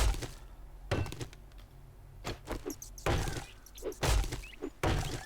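Repeated heavy metallic thunks and whacks as a wrench smashes apart a chemistry station in a survival video game, several separate impacts spread over a few seconds, fairly close and distinct.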